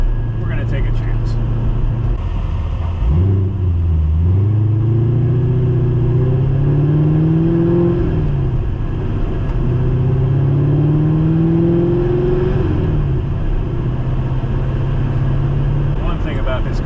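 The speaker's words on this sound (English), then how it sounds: "it's a little bit of an opportunity to kind of stretch out the engine a little bit and rev it up" A car engine on the 270 highway revs up and eases off twice, rising and falling in pitch over a steady low road rumble heard from inside the car.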